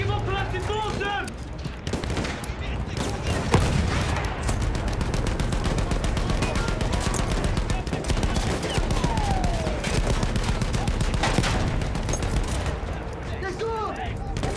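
Dense, continuous battlefield gunfire with rapid machine-gun bursts and scattered rifle shots fills Battlefield 1, a World War I setting with German guns and a field gun, steady and loud throughout with shouted voices mixed in.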